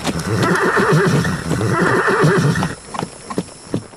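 Two horses gallop along a seashore as an audio drama effect: loud rhythmic hoofbeats with repeated whinnying and neighing, then the hoofbeats thin out into a few scattered clops.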